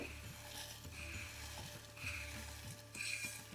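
Mangodi lentil dumplings drop into a little hot oil for a Rajasthani curry, giving a faint, soft sizzle with light clicking and stirring noises in a quiet kitchen.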